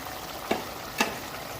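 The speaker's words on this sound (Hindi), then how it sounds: "अब इस फ्लेम में आके हम इसमें ये जो हरी मिर्चें थी ये हम इसमें ऐड कर देंगे" Green chillies dropped into chicken and cauliflower frying over a high flame, a steady close sizzle with two sharp hissing bursts as they hit the hot oil.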